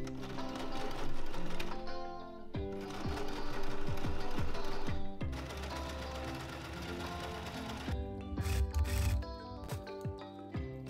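A sewing machine stitching a cushion hem, running steadily and loudly in several bursts with brief stops and a reversal to lock the seam, heard close with a continuous mechanical whir and no voices.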